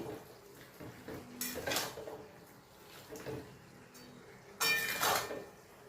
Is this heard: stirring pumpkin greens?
yes